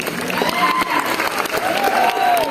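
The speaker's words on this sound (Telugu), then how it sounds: "చలో మేడం కి బిగ్ క్లాప్స్ ఒకసారి, బిగ్ క్లాప్స్ గట్టిగా అందరూ ఇవ్వాలి." An audience at a function in Vizag claps and cheers loudly, with irregular clapping mixed with crowd voices and a few shouts, close and lively throughout.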